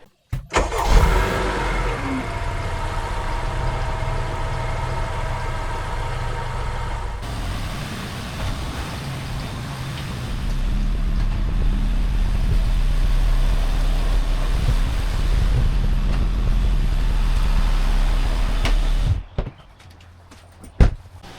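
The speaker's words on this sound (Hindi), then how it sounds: "पहले निकालते हैं गाड़ी बाहर" A car is started and driven out of a garage, its engine idling and then growing louder and rougher as it moves off, close by, before shutting off near the end amid a few clunks.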